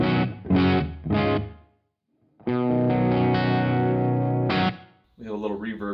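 An electric guitar runs through a Wampler Ratsbane distortion pedal into the clean channel of a Marshall Silver Jubilee amp with the gain fully up. Several short chugging hits are followed by a long, sustained, heavily overdriven chord and more notes.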